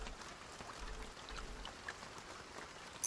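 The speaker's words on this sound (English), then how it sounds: "I love the sound of the rain." Rain falls outside a garage as a faint, even hiss of drops that continues without a break, with no voices.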